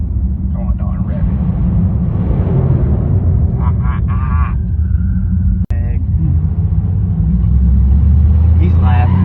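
A car engine on a street outside Reddogs Garage idles with a loud, steady low rumble that swells as it revs, with people talking over it and a sharp click partway through.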